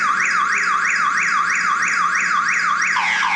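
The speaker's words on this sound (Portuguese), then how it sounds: "esse aí dispara um alarme" A phone anti-theft app alarm goes off with a loud, rapidly warbling electronic tone. It rises and falls in regular sweeps, about three per second, and plays alone.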